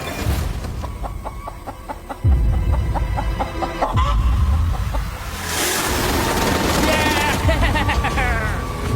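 Chickens cluck and squawk during a catch on a deserted island, the calls rising amid loud rustling and commotion, with people talking over the noise.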